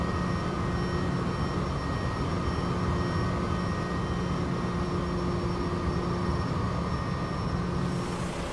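Airplane engine drone in the X-Plane 11 flight simulator over Sydney, Australia, a loud continuous roar with steady tonal hum, unbroken and alone, without voices.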